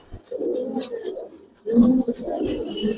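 Old-breed Giribaz pigeons coo inside a loft, two bursts of soft, throaty, rolling calls close by with a short pause between them.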